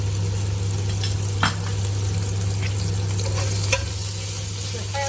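Curry paste frying in hot oil in a pan, a steady close sizzle with occasional stirring scrapes and a low hum underneath.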